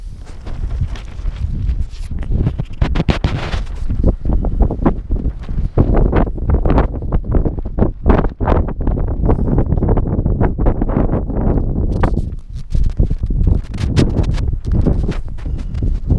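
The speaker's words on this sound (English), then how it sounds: "Still quite windy." Strong wind buffets the microphone in loud, gusty rumbling bursts, continuous throughout with brief lulls, at a tent camp on the Brecon Beacons on a wintry night.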